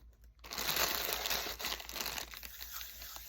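Tape is pulled and pressed onto gift wrapping around a pair of pajamas, a close, continuous crinkling and tearing rustle with no talk.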